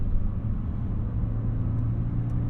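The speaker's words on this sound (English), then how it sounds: "So right now I'm driving a 1988. Driving the 1988 Honda Accord." A 1988 Honda Accord LX-i with a five-speed manual gearbox cruising along, its engine giving a steady low drone and rumble with road noise, close and continuous for the whole stretch.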